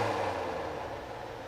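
A Broan 30-inch under-cabinet range hood fan spins down from its high setting, a broad whooshing hum that fades steadily over a second and a half.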